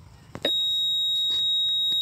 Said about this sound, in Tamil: பார்த்தீங்கன்னா பீப் சவுண்ட் வந்துக்கிட்டே இருக்குது